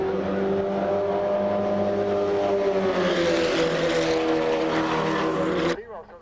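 Formula V race cars racing at the 1990 SCCA National Championship, a dense droning pack of small engines holding a continuous loud whine before cutting off abruptly, with commentary running underneath.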